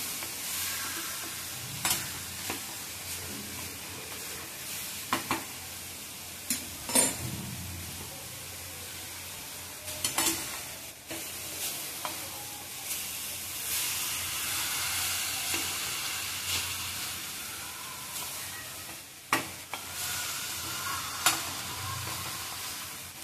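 Grated carrots for gajar halwa sautéing in a pan, a steady soft sizzle close by, broken by occasional scraping stirs and knocks of the spoon, with no talk.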